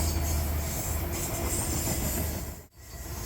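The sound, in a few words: EMD SD60 and SD70ACe diesel locomotives passing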